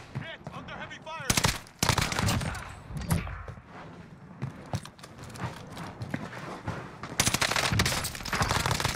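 Rapid bursts of automatic gunfire in Call of Duty on Rebirth Island ring out close and loud, with dense volleys near the start and again toward the end, layered over game noise and a talking player.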